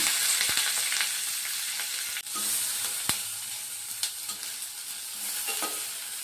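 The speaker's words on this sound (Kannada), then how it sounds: "ನೋಡಿ, ಈರುಳ್ಳಿ ಸ್ವಲ್ಪ ಬಣ್ಣ ಬರೋವರೆಗೂ ಸ್ವಲ್ಪ ಹುರ್ಕೊಳ್ಳೋಣ." Sliced onions with curry leaves frying in hot oil for a tondekai palya, loud continuous sizzle with occasional sharp spoon scrapes and knocks against the pan, no voices.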